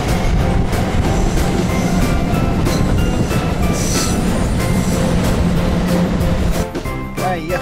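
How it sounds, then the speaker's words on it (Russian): An oncoming train rushes past a car on a Swiss mountain route, a dense loud roar with rhythmic wheel clatter and faint squeal, dropping off sharply near the end as it clears. "Второй поезд пошел навстречу нам."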